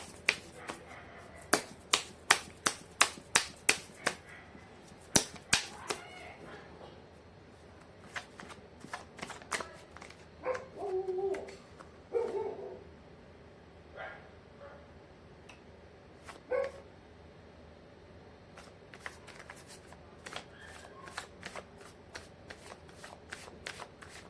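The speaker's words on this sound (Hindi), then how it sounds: "मैं कर लेती हूँ कार्ड की शफलिंग।" Tarot cards are shuffled by hand close up, with a quick series of crisp riffling snaps, then quieter scattered card sounds. A dog barks faintly partway through.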